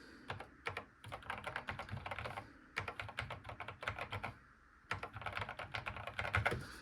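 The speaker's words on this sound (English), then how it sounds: "I believe it's a mechanical keyboard, and it feels excellent." Keys clatter on a Commodore 64 Ultimate Founders Edition mechanical keyboard in close, quiet bursts of rapid clicks separated by short pauses.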